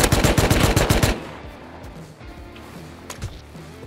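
M2 heavy machine gun fire in a first-person shooter game, a loud rapid burst of shots for about a second, then quieter scattered distant gunfire and thuds.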